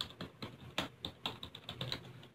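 Keys clatter on a computer keyboard in a quick, uneven run of close, crisp taps, with short pauses between bursts and no voices.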